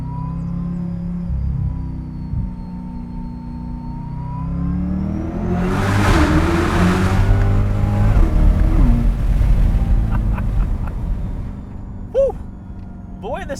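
Supercharged Chevrolet Corvette C8 E-Ray with Lingenfelter supercharger package accelerating hard through a tunnel with windows down, engine note rising and swelling loud mid-way, with wind and rumble and brief voices near the end.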